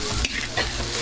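Fried rice sizzles loudly in a pan at a rural wedding feast, with steady frying hiss and a couple of scraping stirs, close and continuous with no voices.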